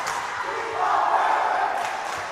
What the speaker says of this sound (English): Gets the sideline and the crowd both fired up.